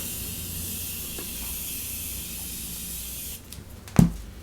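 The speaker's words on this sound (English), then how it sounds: "I'm actually going to apply some Morphe setting spray and see if I can fix my face" A continuous airy hiss of Morphe setting spray mist runs steadily for over three seconds, close to the listener, then stops with a soft click and thump.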